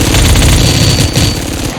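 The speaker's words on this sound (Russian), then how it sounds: "Интересный звук стрельбы, кстати, послушайте." Rapid automatic gunfire from an MP7 submachine gun in the game Badlanders, a fast continuous burst of dense, punchy shots with a slightly synthetic game-like texture.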